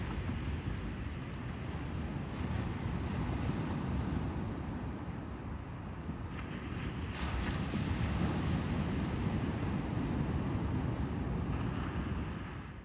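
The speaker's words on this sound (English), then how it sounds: "Now enjoy a little relaxing beach waves that I created myself." Self-made relaxing beach waves: a steady, full wash of surf with low rumbling and faint wind buffeting that swells gently and never breaks into distinct crashes, with no voices.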